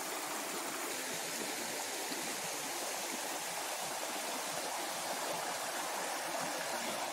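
A river in autumn runs at strong, steady flow, producing an even, broadband rushing of water that stays constant and fairly loud throughout, with no voices.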